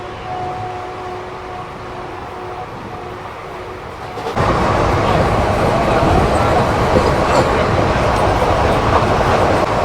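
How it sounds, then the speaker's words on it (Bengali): An express train runs at speed, its steady roar and rattle swelling abruptly partway through into a louder, broader rush, with a faint tonal hum early on. "ট্রেন কিন্তু ভালোই টানছে, মানে ট্রেনের গতি কিন্তু সুন্দর।"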